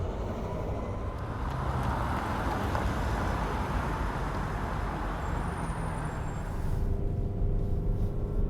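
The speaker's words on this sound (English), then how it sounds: "I'm driving normal city speeds right now, turning right, left, going through some few bumps" Road and engine noise from a 2022 Mitsubishi Outlander driven at city speeds, a continuous broadband rumble heard from inside the cabin, steady and fairly loud with a slight swell near the end.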